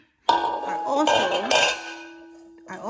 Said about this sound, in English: This is a tube pan.